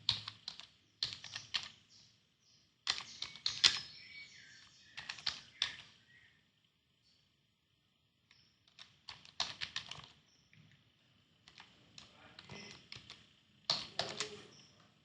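Quick bursts of typing on a computer keyboard, with close, crisp key clicks in irregular runs separated by short pauses, heard alone with no talking.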